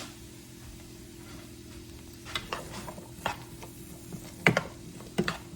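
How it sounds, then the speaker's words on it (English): Mushrooms sauté in butter in a skillet over high heat, a low steady sizzle broken by several sharp scraping and clattering stirs that come in louder bursts toward the end. "I'm going to go ahead and start sauteing the mushrooms till they get a little bit dark"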